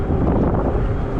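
A breezy, sunny day on a 20-inch fat-tire Zota Zephyr e-bike ride, with loud, steady wind buffeting a nearby microphone as a continuous roar.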